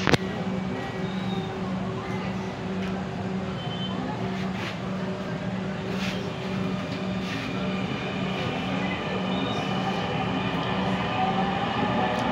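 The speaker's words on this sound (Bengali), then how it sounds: "আমাদের মেট্রো ছুটে যাচ্ছে উত্তর উত্তর স্টেশনের দিকে" A Dhaka metro train runs from Pallabi station toward Uttara North, a steady onboard rumble with a droning motor whine and faint rail clatter throughout.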